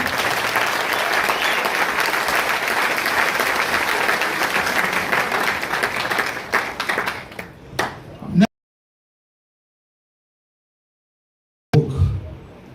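Loud crowd applause at a political rally in Sunyani, Ghana, a dense continuous roar of clapping that thins into scattered claps before cutting off, then briefly resuming.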